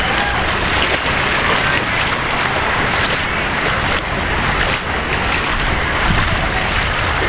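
Floodwater surges along a flooded boulevard in Cavite City, a steady, loud wash of rushing water with wind buffeting the microphone the whole way through.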